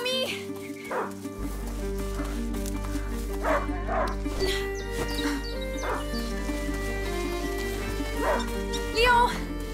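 A hunting dog in the video game A Plague Tale: Innocence yips and whimpers in short bursts over an ambient music bed, with speech mixed in.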